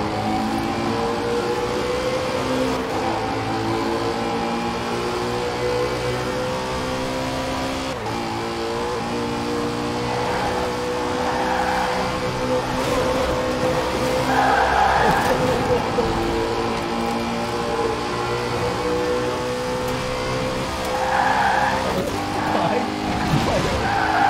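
A Bugatti Chiron and a Koenigsegg Agera RS accelerate hard in a speed test, with loud sustained engine roar, tyre noise and rising revs, while people talk excitedly over it.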